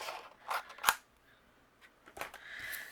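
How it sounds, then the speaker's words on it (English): Scissors trim pale blue cardstock with a few crisp, close snips spread over three seconds, quiet and with no talking. "I'm going to trim it down. Grab my scissors."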